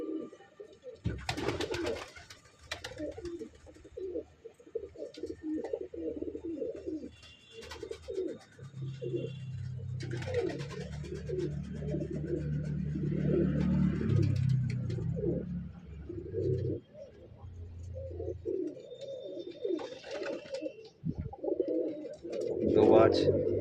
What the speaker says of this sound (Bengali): এখানে যা আছে সব নর পায়রা।